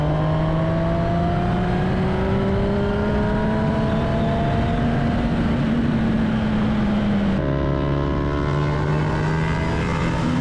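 A 2025 Kawasaki Ninja ZX-10R sport bike at a Grattan race track, its engine droning loud and steady with a slowly rising pitch, then a sudden shift to a lower, rougher tone near the end.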